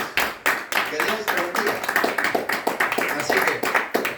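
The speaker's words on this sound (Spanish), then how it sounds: "Denle aplausos al Señor" A church congregation claps together in quick, steady rhythmic applause, close and lively, with a few voices faintly mixed in.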